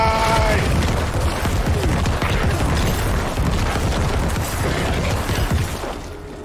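Corpse explosion skill in Diablo 4 on PC: a dense run of booming, popping game blasts and combat effects, loud and sustained before fading at the end.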